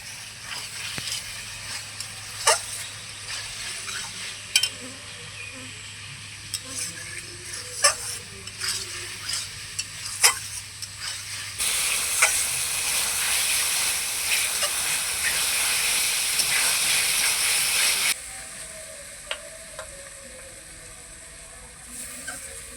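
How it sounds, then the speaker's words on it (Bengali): Curry of chital fish with potatoes being stirred and fried in a pan: soft crackling with scattered spatula scrapes and knocks, then a stretch of louder hissing steam-like sizzle before the quieter stirring resumes. "এখন তরকারিটাকে আমি ভালোভাবে কষিয়ে নিই"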